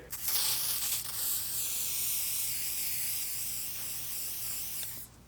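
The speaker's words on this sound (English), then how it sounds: "you want to grab your WD-40 and spray it over the area" A steady WD-40 aerosol spray hisses continuously for about four seconds onto car paint, close and fairly loud, then cuts off abruptly.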